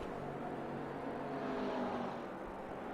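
A green McLaren GT3 race car in a racing video game at Mugello, its engine holding a steady, fairly quiet drone that swells slightly midway and carries no speech.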